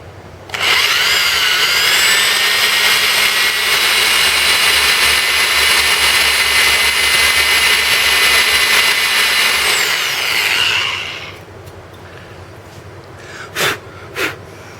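A power drill boring a sling stud hole into an AR15 free float tube, a loud steady high whine for about ten seconds that winds down, followed by a couple of short sharp clicks.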